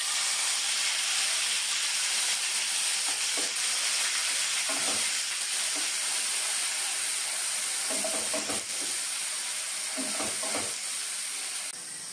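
Onion paste fries in a pan with a loud, continuous sizzling hiss, broken now and then by soft clinks and scraping stirs, with no voices over it.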